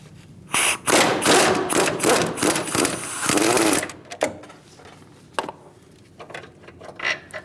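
A socket wrench fitted with a swivel and extension loosens a 15mm transmission mount bolt on a 2016-2019 Chevrolet Cruze 1.4L, with loud rapid ratcheting bursts for several seconds, then sparse clicks and clanks as it slows.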